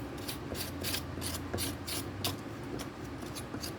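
Wood putty scraped off the body of a Leo Jaymz 7-string guitar kit, a series of short rasping strokes repeating at a fairly even pace, close and moderately quiet.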